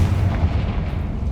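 A Confringo blast spell from Hogwarts Legacy erupts as a dense, loud, low booming rumble that fills the moment without a break, much like heavy artillery.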